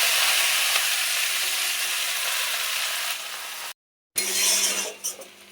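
Water spinach greens dropped into hot oil with a black cumin tempering, a close, steady frying sizzle with light clinks that cuts out abruptly and returns softer and uneven near the end.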